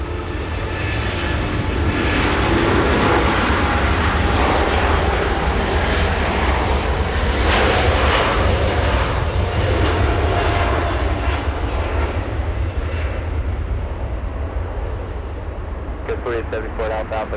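Engines of a heavy jet airliner only a few months old, flight 331 to Honolulu, at Los Angeles International Airport roar loudly and steadily, easing off toward the end, while people talk over the noise.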